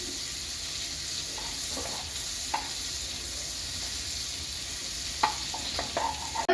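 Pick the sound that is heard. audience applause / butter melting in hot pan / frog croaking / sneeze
butter melting in hot pan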